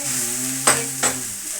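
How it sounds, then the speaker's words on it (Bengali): Mixed vegetables (taro, long beans, potato and radish) fry with a steady close sizzle in a pan, broken by two sharp scraping stirs about a third of a second apart. "সবজিটা একটু ভাজা ভাজা হয়ে গেছে"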